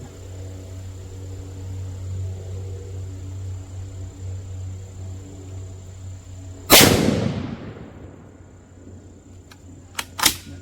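A single sharp, loud report from a Bear Creek bolt-action .22-250 rifle cracks out midway over steady outdoor insect hum, its echo rolling away, followed by a couple of faint clicks near the end.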